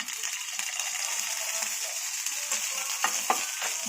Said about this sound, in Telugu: అది గోలిచిన ప్యాన్లో కొంచెం ఆయిల్ వేసుకొని ఎండుమిర్చి